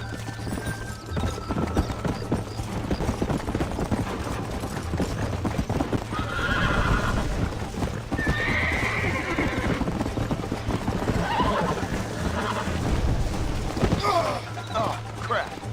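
In Red Dead Redemption, a horse's hooves clip-clop in a fast gallop with loud whinnying neighs, mixed with game effects and a player talking excitedly over it.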